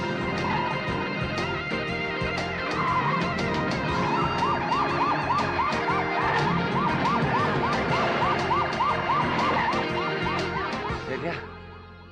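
A wailing police siren rises and falls in a rapid repeating cycle, loud and close, mixed with busy street noise and some voices, then cuts off near the end.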